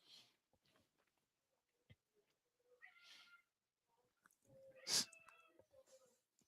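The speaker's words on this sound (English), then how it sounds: "I hear my cat crying." A cat meows indoors in a quiet room, a few short, fairly faint cries spread across the stretch, the loudest one near the end, with a few small knocks and rustles between them.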